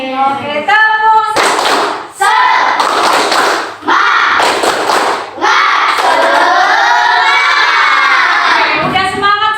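A class of children clap together in an Indonesian primary classroom, sharp bursts of hand claps mixed with loud shouting and chanting voices, close and energetic.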